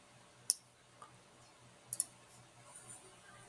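A computer mouse clicks a few times, sharp and close: a single click, then a quick double click, against a quiet room hum.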